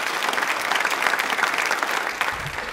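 Loud, dense applause from an audience at a tribal pride day event honouring Bhagwan Birsa Munda, with continuous clapping sustained throughout.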